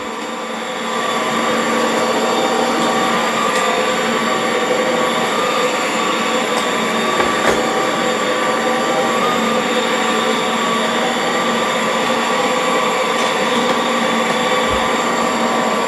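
A Dyson V15s Detect Submarine wet mop vacuum cleans a floor with a loud, steady motor whine and rushing airflow that starts after a second and runs continuously, with faint clicks from passes over the surface.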